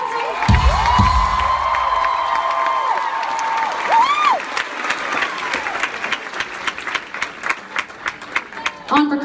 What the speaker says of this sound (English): you better give him a big old round of applause